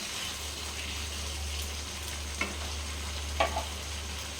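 Mutton curry cooking with potatoes in a pan while being stirred, giving a low, steady sizzle with a couple of brief scraping clinks from the stirring. No one speaks.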